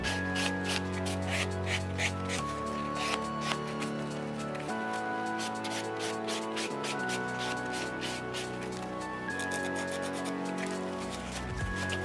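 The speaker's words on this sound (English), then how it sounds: "I can come in once again with my buffing block and I'm just going to refine that surface a little bit." A buffing block rubs over an acrylic dip-powder French tip nail in quick, repeated scratchy strokes, soft and close, under steady background music.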